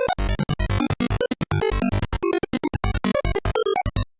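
Glassy psy-trance lead from the Vital synth with random formant modulation, sounding as a fast stream of short staccato notes that keep shifting in tone, bright and dense, with no voice over it.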